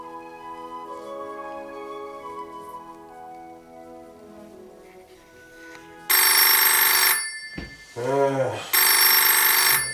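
A telephone rings loudly in repeated long bursts through the second half, after a quieter stretch of steady tonal background, with no voices.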